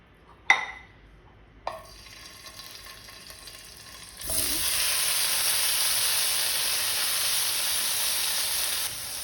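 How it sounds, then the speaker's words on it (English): Paneer drops into hot oil in a kadai with a couple of sharp clinks, then breaks into a loud, steady sizzle that keeps hissing to the end. "Now we'll fry our paneer."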